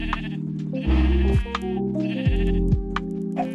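Sheep in the Minecraft video game bleat in a couple of clear, loud, wavering cries over a steady background tune, with no talking.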